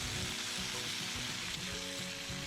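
Bacon strips sizzle on a Blackstone flat-top griddle, a dense, crackling hiss with popping fat, close and steady for a couple of seconds, with no talking.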